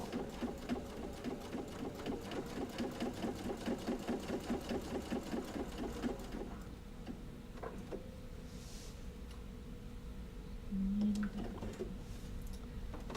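Sewing machine stitching around a pot holder, a rapid even chatter of needle strokes for about six seconds, then stops, followed by quieter clicks and a brief hum.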